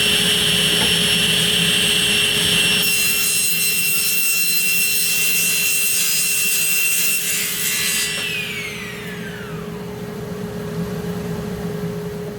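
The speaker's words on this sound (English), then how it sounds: "Now that I've cut the channel in this front bridge" A table saw cuts a channel into the wooden front bridge of a cross-cut miter sled, with a loud, steady high whine and rough wood-cutting noise, then the blade spins down as the cut finishes.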